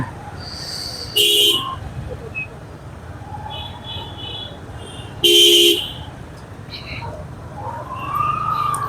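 Busy city road in Dhaka near the Secretariat, with steady traffic rumble under two loud, sustained car horn blasts, several fainter beeps and a rising siren-like tone near the end.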